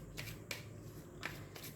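A deck of cards is shuffled for a card reading, quiet close riffles in several short bursts with pauses between.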